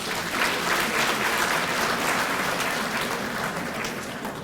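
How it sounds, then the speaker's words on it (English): Steady, dense applause from an audience fills the space evenly throughout, a sustained wash of many hands clapping at moderate loudness with no speech over it. "please give yourself a warm round of applause"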